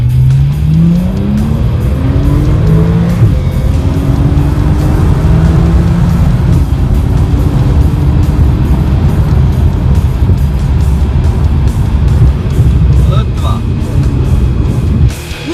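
A Porsche Carrera Turbo S accelerates hard down a start straight, its loud engine note climbing through several gears in close, sustained roar with a brief tyre squeal, and a voice talks over it.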